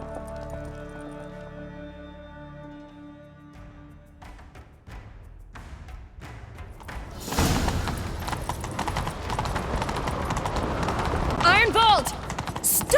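Horse hooves galloping in The Witcher 3: Wild Hunt during a chase, a rising clatter of clip-clop over busy game sounds and music that grows louder toward the end.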